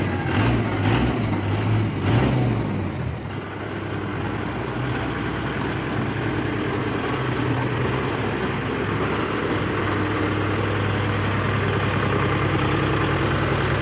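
Kubota tractor engine running steadily after a repair for lost power, a continuous low diesel rumble that is louder and more uneven in the first few seconds, then settles into a constant drone with no talking.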